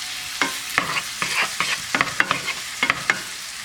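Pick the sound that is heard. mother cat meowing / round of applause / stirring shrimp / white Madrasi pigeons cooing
stirring shrimp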